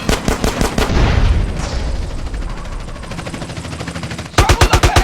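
Rapid gunfire from the GTA San Andreas mission Reuniting the Families, with loud bursts of repeated shots at the start, a dense rumbling stretch of overlapping fire and noise in the middle, then another sharp volley of evenly spaced shots at the end.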